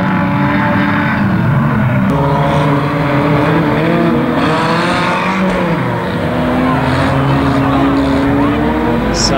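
Unlimited banger racing cars circulate a track at Kings Lynn, engines roaring loudly and continuously with tire noise, a race commentator talking over the din throughout.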